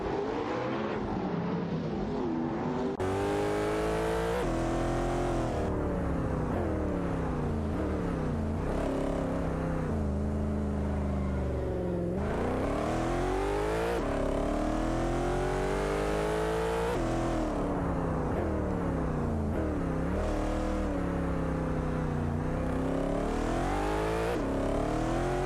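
Race cars in a racing video game roar continuously, engines revving up and down through gear changes as several cars run close together, loud and unbroken with no talk.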